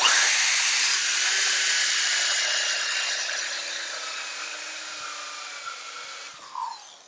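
A 1.5-inch hole saw with a starter bit cuts into a board for a wooden storage crate, giving a steady, loud, high-pitched grinding whine that slowly fades over several seconds, then a brief scrape at the end.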